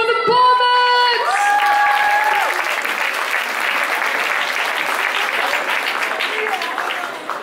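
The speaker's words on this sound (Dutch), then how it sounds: "Dames en heren, een applaus voor de Bomhut!" An audience at a playback show breaks into loud, steady applause for the Bomhut act, taking over as a bright musical sting fades, then slowly thinning toward the end.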